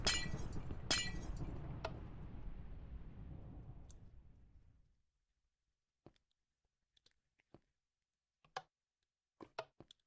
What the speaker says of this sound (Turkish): Haydi şimdi camı kırıp geçin.